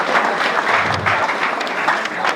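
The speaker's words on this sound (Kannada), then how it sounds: "ಅವರಿಗೆ ಕೂಡ ದೊಡ್ಡ ಚಪ್ಪಾಳೆಯನ್ನ ಕೊಡೋಣ" A crowd applauds a student who passed an army exam at a congratulation program in Haveri, a dense burst of many hands clapping for a couple of seconds.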